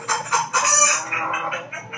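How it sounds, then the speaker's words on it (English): A hen clucks in a run of quick, close, fairly loud calls over about two seconds, a farmyard fowl heard alone with no talking. "That's the sound that the hen makes."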